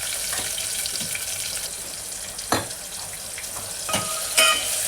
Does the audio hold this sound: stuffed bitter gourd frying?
yes